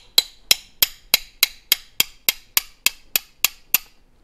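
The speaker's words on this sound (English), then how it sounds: "we're going to tap that pin out, the roll pin, from the top of the firearm out through the bottom" Hammer tapping a 2mm punch to drive a roll pin out of a Tanfoglio pistol frame to free the extractor: twelve sharp, evenly spaced metallic taps, close and clear, with no talk.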